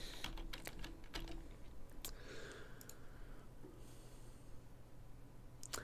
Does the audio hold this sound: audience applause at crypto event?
no